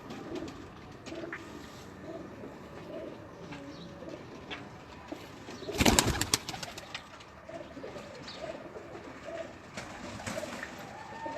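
Breeder homing pigeons kept in a loft, cooing softly and steadily in a low murmur throughout, with a brief louder rustle or clatter midway.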